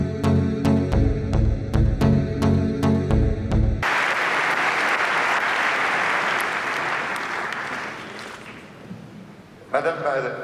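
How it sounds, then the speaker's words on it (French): An audience gathered for the Tour de France 2024 finish presentation in Nice applauds the city's mayor, a dense wash of clapping that swells after a musical sting and fades over several seconds before a few sharp sounds. "Merci d'applaudir le maire de Nice"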